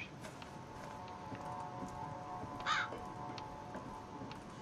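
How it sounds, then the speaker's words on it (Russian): A crow caws in Silent Hill: Downpour, one short harsh call near the middle of the clip, rising clearly above a steady low game ambience. "Да хватит тебе там каркать-то"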